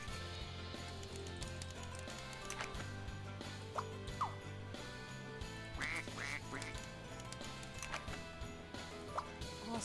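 A cartoon duck in Scribblenauts Unlimited quacks several times in short bursts over busy game music with ticking mechanical sounds.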